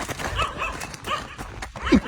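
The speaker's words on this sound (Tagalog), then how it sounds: "May aso. May aso ko dyan." A dog is present outdoors with people talking, and a short low sound near the end may be a yip or bark, brief and partly masked by voices and background noise.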